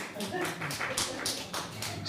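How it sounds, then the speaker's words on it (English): A comedy-night audience claps hands in a quick run of faint, rhythmic bursts, rather distant and thin in the room. "clap your hands"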